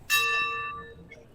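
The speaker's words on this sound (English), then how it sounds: "What does the bell signify?" A single bell strikes once at the end of chemotherapy treatment, a clear ringing tone that decays over about a second, fairly close and alone.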